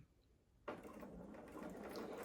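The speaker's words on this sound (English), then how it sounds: "lining them up, and sewing with a 1/4 inch seam" A sewing machine starts up abruptly and runs a steady, fast mechanical chatter while stitching quilt blocks with a quarter-inch seam. It is close and fairly quiet, with a brief lull before the motor kicks in.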